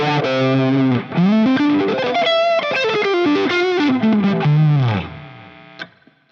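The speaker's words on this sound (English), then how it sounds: "Fuzz wah." Electric guitar through a Fractal FM3 with a fuzz wah and a Marshal 1959SLP treble Plexi-style amp model plays a loud, saturated lead line with sweeping vowel-like tone shifts, then fades to a brief final pick at the end.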